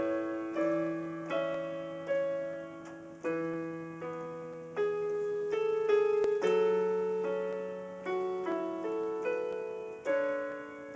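Solo piano plays the crisscross section of a piece, a flowing run of single notes over held bass tones, close and clear with each note decaying naturally.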